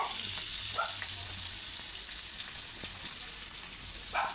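Onions fry in a pan with a steady, close, hissing sizzle, broken by a few soft stirring knocks. No one speaks.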